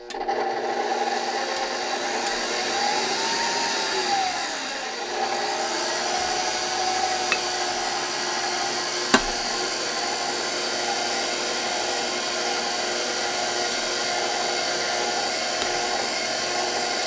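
Electric mixer running steadily on slow speed while butter and white chocolate mixture is added to a brownie batter, a continuous even whir with a brief clink near the middle, no talking.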